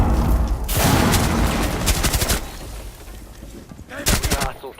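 Gunfire from an in-game weapon in Rainbow Six Siege, heard as a close, loud burst of rapid shots followed by more scattered shots and a final short burst, with a faint voice underneath.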